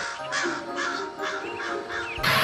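Crow cawing in a children's cartoon, a series of rough, harsh caws in quick succession, close and fairly loud.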